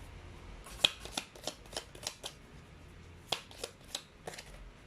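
Tea leaf fortune cards being shuffled, a run of quick papery riffling bursts with short pauses between them, close and fairly quiet, with no voices.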